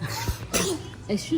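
At breakfast, a person lets out one short, sharp sneeze up close, while others talk briefly around it.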